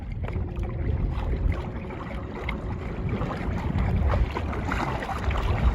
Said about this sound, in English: Motor's on 4 setting, back up to 5.